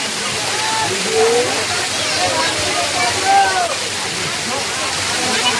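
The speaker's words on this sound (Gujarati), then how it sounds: "આ સૌથી ઉપરથી ધોધ આવે" A forest waterfall pours down from a height with a loud, continuous rushing roar, and voices are heard faintly beneath the water.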